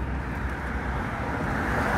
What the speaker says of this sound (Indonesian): Kali ini yang bus yang akan saya naiki sudah datang, ini 98